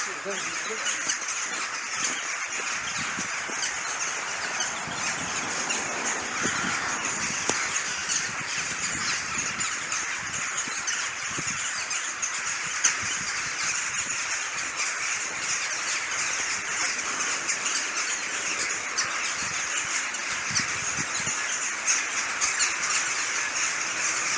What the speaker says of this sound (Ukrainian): знаєте, чому так ворон багато?